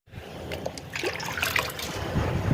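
Water pours in a steady trickle and splashes lightly onto the soil of vegetable plants, continuous and close by.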